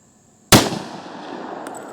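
A .45 ACP ATOMIC round is fired into ballistic gel, one sudden loud outdoor report that decays over about a second into open-air reverberation.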